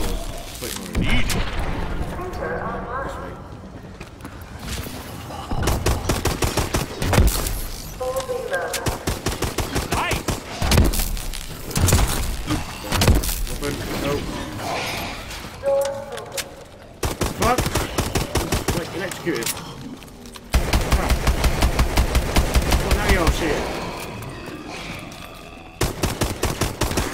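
Video game gunfire in Exo Zombies, rapid repeated pistol and weapon shots in dense bursts with booming impacts, loud and close, while a player talks over the action.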